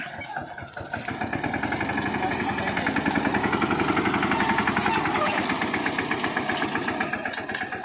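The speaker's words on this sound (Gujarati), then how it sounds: "જો મિત્રો તો આપણું ટ્રેક્ટર ભાગ્યું જાય" A tractor engine running in a village field, a loud, close diesel chug with a steady rapid pulse that holds from start to finish.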